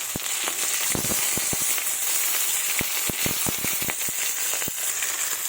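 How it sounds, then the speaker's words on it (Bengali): Fish sizzling and spitting in hot mustard oil in a wok-style pan after being turned over, a steady close frying hiss with many sharp crackling pops scattered throughout. "এই দিকটাও আমি লাল লাল করে ভেজে নেব।"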